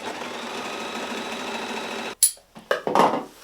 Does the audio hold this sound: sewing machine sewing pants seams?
yes